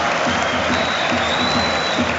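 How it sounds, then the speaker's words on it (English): Stadium crowd at a Manchester United v Rangers Europa League match cheers and applauds as Højlund comes on as a substitute, a dense, steady roar of clapping and voices filling the whole clip. "there'll be a special cheer for Højlund here"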